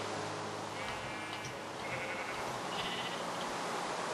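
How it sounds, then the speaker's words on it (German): Sheep in the Minecraft video game give a few soft bleats over a steady hiss of game background noise, faint and brief. "Das ist noch ein Schaf."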